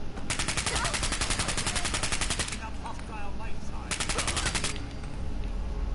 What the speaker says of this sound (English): Hey, that guy's shooting a gun.